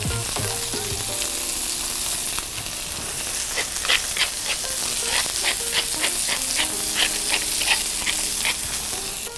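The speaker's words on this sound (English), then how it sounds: "So I've got my salmon fillet seared." A seasoned salmon fillet sears in a hot pan with a constant loud sizzle and crackle. Sharp spatters pop repeatedly through the middle and later part, and no one speaks.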